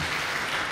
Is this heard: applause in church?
yes